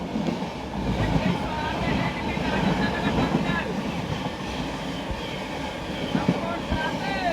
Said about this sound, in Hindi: आम जनता की राजधानी संपूर्ण क्रांति एक्सप्रेस दोस्तों निकल रही है